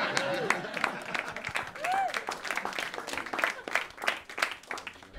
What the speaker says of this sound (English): Thank you, you're right to clap.